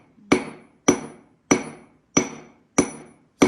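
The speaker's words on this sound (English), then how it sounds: "and just peck very lightly, and you try to get as close together as you can on the pecks." Hammer pecking a millstone to roughen its face, six sharp, evenly spaced taps with short ringing decay, close and alone.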